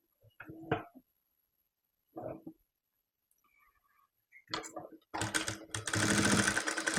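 A sewing machine back-stitches to lock a seam on a blue baby jumpsuit, giving several short stitching bursts separated by pauses before breaking into a longer, continuous run at close range.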